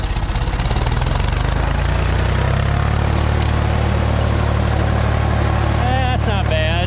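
A tractor engine drones steadily and loudly while pulling a hay tedder in fifth gear, a constant low rumble throughout with a rising whine near the end.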